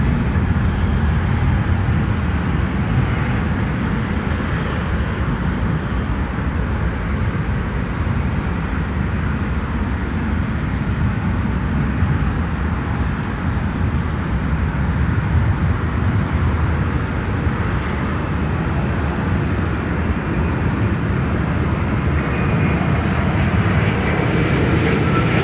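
A heavy airliner inbound to O'Hare airport, a loud sustained jet engine roar filling the whole stretch, steady and broadband with no breaks, no voices heard over it.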